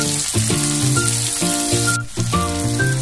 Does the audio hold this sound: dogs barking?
no